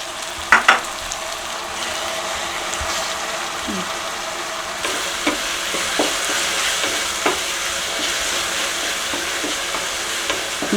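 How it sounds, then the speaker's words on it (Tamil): Chopped tomato and onion fry in a hot pan, stirred steadily with a spoon for a continuous sizzle and occasional scraping clicks against the metal, close and moderately loud throughout, with no talking. "பொடியாக நறுக்கின தக்காளி போட்டு நல்லா வதங்கணும்."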